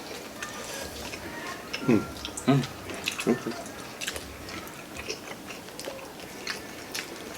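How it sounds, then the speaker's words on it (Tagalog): Chewing baby octopus: a few moist, squishy bites and chews close to the mic, with voices talking softly around them. "Tikman natin itong baby octopus na to."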